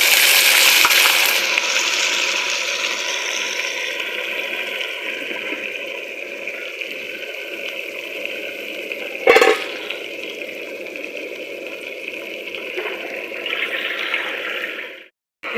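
Washed cauliflower pieces for aloo gobhi hit a hot pan with a loud hiss that slowly fades into a steady sizzle, broken by one sharp knock partway through, with no talk.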